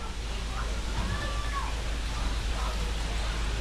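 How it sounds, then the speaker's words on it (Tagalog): Steady rain falls outside a house, a continuous soft hiss with a low rumble underneath, even and unbroken throughout, with no voices audible. "Talaga lang ulan lang siya ng ulan."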